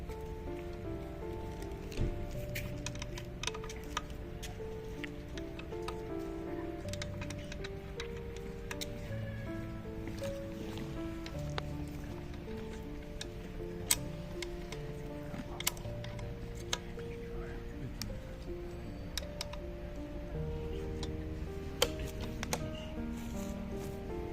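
Brake disc on a 2025 Kukirin G2 Master electric scooter rubbing against the brake during adjustment, a quiet continuous scraping with small repeated ticks, no voices.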